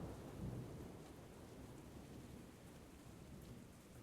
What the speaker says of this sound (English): It's the sound of rain hitting the outside of the car.